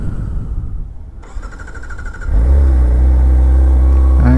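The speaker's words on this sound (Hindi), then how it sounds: "क्या गजब का साउंड है ना यार, इनलाइन फोर का अलग ही मजा है" A Kawasaki Ninja ZX-4RR inline-four motorcycle starts up in neutral and settles into a loud, steady idle close to the microphone, with a deep, even drone that holds after the start.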